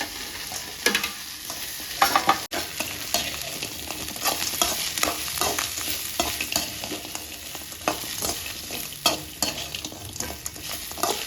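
Cauliflower pieces with curry leaves and mint sautéing in hot oil, a continuous close sizzle with frequent scraping stirs and occasional sharp spatula knocks on the pan.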